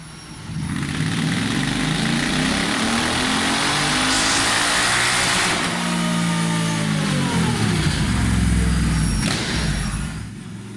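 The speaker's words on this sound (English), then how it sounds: "we've got some dyno runs to show you with the air filter and with some development exhausts" A Royal Enfield 650 twin engine fitted with a performance air filter and development exhaust revs hard on a dyno, a steady loud roar climbing and falling in pitch through a long sustained run.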